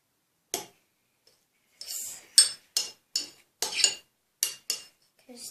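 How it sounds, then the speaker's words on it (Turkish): Homemade slime made with pastel paint gets stirred in a container, giving a run of sharp, wet clicks and squelches in an uneven rhythm, close up and alone after a short quiet start. "İyice karıştırıyorum."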